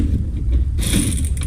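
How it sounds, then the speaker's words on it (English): Electric ratchet spinning out bolts during engine removal on a 2016-2021 Honda Civic Si, a short close mechanical whir and clicking burst that grows brighter partway through. "one more, what I can get that with the electric ratchet"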